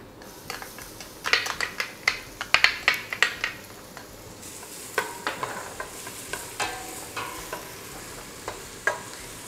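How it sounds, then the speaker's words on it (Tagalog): Garlic sizzles in hot oil while a utensil stirs and scrapes the pan in quick, irregular bursts, with no talking, while cooking kare-kare. "igisa lang natin yung ating bawang."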